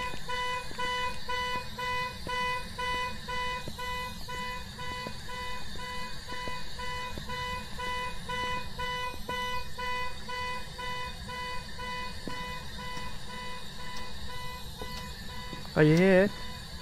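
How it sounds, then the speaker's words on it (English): In Phasmophobia, a car alarm sounds repeatedly: a steady, pulsing pattern of electronic tones across the whole stretch, with a sharp warbling burst near the end, while people talk over it. "Setting off the car alarm."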